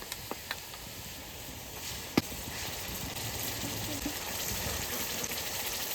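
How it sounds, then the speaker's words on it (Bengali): Soft, steady crackling sizzle of onion, ginger, cumin, chilli and garlic frying in a pan, with a few sharper pops and clicks scattered throughout, fairly quiet and close. "ভালো করে মশলাটা কষাই নেব"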